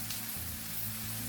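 Chopped onions softening in a hot pan for a courgette curry, a steady, even sizzle with a low hum underneath and no voices.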